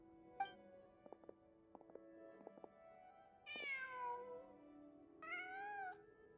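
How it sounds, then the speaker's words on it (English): A cat meows twice in Genshin Impact, two clear rising-and-falling calls heard alone over a quiet game backdrop after a few soft ticking clicks. "Just a cat."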